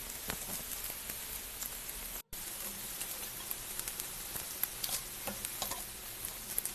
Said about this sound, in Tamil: இப்போ நம்ம காலிஃப்ளவரை எடுத்து போடுறோம். அது ஃப்ரை பண்ணணும்.